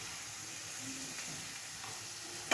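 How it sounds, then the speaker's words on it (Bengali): Chicken pieces frying in a little oil in a wok over a high flame give a soft, steady sizzle and hiss, faint and continuous, with a brief clatter at the end. "প্রথমে কড়ার মধ্যে তেল দিয়েছি, দিয়ে চিকেনগুলোকে এক এক করে ভেজে নিচ্ছি।"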